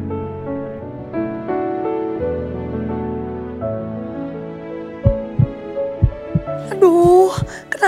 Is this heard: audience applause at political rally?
no